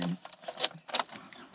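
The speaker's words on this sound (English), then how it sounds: "here comes three keys there, as you can see" Keys for an Isuzu D-Max Yukon diesel pickup jangle close by in a few quick metallic rattles and clinks.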